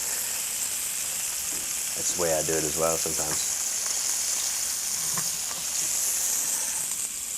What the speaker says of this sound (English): you just pan fry the medallions like that